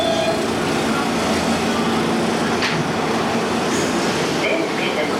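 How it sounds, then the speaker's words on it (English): Steady, loud rumble and hum inside a Queens-bound New York City subway train in motion, continuous throughout, with a muffled voice faintly mixed in. "This is a Queens-bound train"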